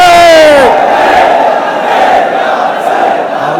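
A large crowd chanting the Labbaik slogan at a religious gathering, one loud sustained collective shout from many voices that rises together and holds, filling the space.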